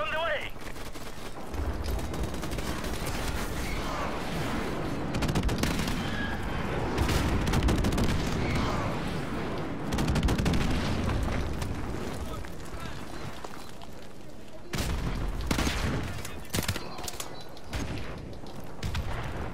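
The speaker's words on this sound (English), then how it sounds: "Friendly airstrike on the way." Airstrike explosions and gunfire rumble through a Call of Duty MW Remastered multiplayer match, with repeated heavy blasts and crackling bursts over nearly twenty seconds, loud and dense with several sharp impacts, under occasional talk.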